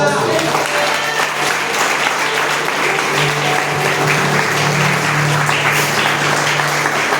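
A church congregation applauds in thanks during a service: dense, sustained clapping fills the whole stretch at close range, with a faint hum and some voices mixed in.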